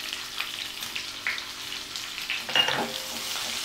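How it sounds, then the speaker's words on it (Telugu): Onion pieces fry in a pan for Telugu pudina rice, a soft steady sizzle with light occasional stirring scrapes, moderately close and without talking. "సాల్ట్ వేసుకొని ఉల్లిపాయ ముక్కలు బాగా ఫ్రై చేసుకోవాలి"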